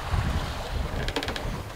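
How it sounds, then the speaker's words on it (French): Wind of about five to six knots rushing over a sailboat off southern Sardinia in the Mediterranean, steady broadband whoosh with water and hull noise, constant and close throughout. "Là, le vent est revenu, il y a 5-6 nœuds de vent."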